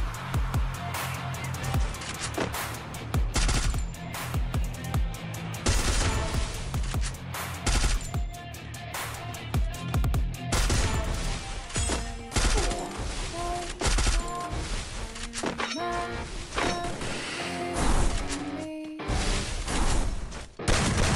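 Dense, rapid automatic gunfire from a mobile shooter game crackles almost continuously, with bursts, single shots and mechanical clicks overlapping throughout, loud and close.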